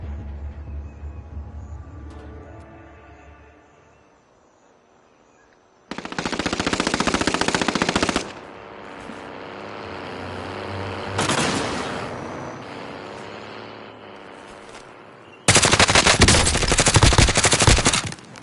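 Gunfire in a battle royale video game: two loud bursts of rapid automatic fire with a quieter shot between them, set against low rumbling game ambience and no talk.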